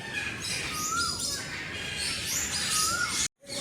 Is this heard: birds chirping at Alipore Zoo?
yes